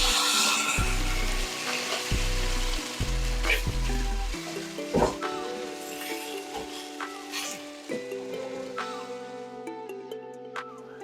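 Tomato paste and canned San Marzano tomatoes sizzle steadily in a pot, a close, continuous frying hiss with occasional sharp clinks and stirring knocks, under a soft background music bed and no speech.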